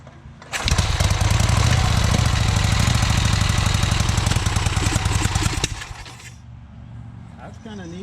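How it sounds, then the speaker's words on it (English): Vincent Rapide Series C motorcycle engine being kicked over from cold with the compression release, producing a loud, fast rhythmic chuffing that runs for about five seconds before dying away to a lower background hum with faint voices. "I'm going to kick it through with a compressor release a couple times just to spin it."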